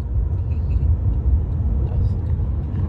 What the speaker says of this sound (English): And Sai is my Uber driver, and he drives Chevrolet Bolt EUV, the same car we have at home.